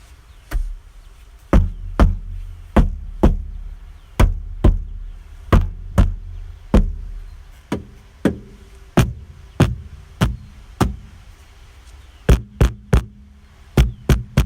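A Mercedes W210 boot lid treated with a sound-deadening coating is knocked by hand: a long series of close, dull, damped thuds, mostly evenly spaced, ending in a few quick clustered knocks, with no voices.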